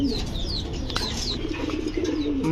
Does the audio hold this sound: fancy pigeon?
yes